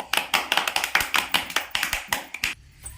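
Children clapping their hands together in a classroom activity, a quick run of about fifteen sharp, fairly even claps at close range before stopping abruptly.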